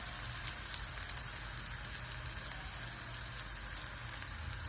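Spice tempering sizzling steadily in hot oil for a homemade egg curry, a dense continuous crackle with no breaks, close and fairly quiet, with no talk.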